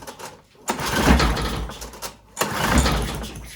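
A small lawn mower engine being cranked at idle setting, two rough pull-start attempts each sputtering and rumbling for about a second before dying, close and fairly loud.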